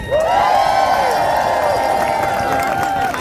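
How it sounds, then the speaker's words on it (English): Rally crowd at an anti-Trump and anti-ICE No Kings protest bursts into loud cheering and applause, a sustained roar of voices with clapping and whoops that holds steady close by for the whole stretch. "Can I get an applause?"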